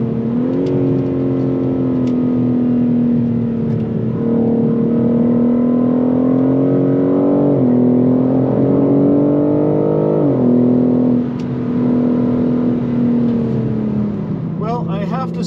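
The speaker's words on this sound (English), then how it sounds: "Today we're driving the new M4 Competition." A 2021 BMW G82 M4 Competition driven on a track, heard from inside with a loud, steady engine drone whose pitch rises and falls through several gear changes over about fifteen seconds.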